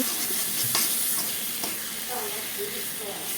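Spice paste frying and being stirred in a pan for a vegetarian potol dish, a close, hissing sizzle with occasional soft stirring sounds.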